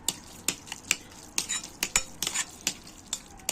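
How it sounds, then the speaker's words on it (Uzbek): Eggs and salt get stirred into a grated melon batter in a bowl, a steady series of light clinks and taps from a utensil against the side, close and fairly quiet. "Mana yaxshi aralashtirib oldik."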